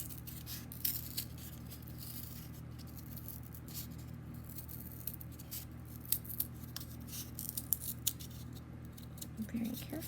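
Scissors cut an oval out of cardboard with a series of crisp snips and crunches, irregularly spaced and close over a low background hum, with quiet speech mixed in.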